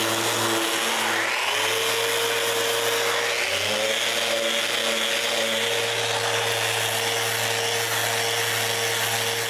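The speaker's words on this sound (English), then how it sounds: "The first thing I do is sand everywhere again." Power sander running steadily on a wooden bandsaw during finishing, a continuous whirring drone that shifts pitch twice early on as pressure changes, close and loud with no talk.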